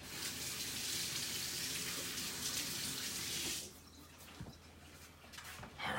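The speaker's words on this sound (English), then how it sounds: "Wash my hands up." Hands washed under a running kitchen tap give a steady splashing rush of water for several seconds, close by, before the flow stops and a few faint clunks follow.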